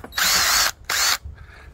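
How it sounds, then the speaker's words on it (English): A drill gun whirs into the body of a 2002 Chevy Z71 4x4 pickup while mounting a light bar, two loud sustained bursts of spinning with a brief stop between, then a quieter trailing rattle. "This drill gun"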